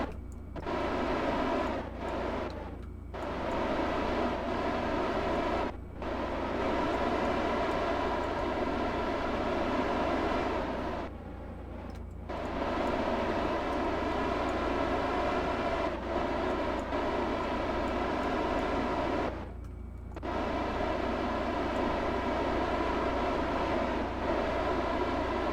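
Rocket engines at full throttle in the video game Kerbal Space Program 1.11.2 give a loud, continuous roar, broken by several short cuts where the sound briefly drops away.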